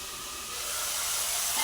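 Onions and tomatoes sauté under a lid in a pan for a dry fish (valai karuvadu) curry, giving a steady, close hiss of steam and sizzle that swells slightly louder toward the end, with no voices.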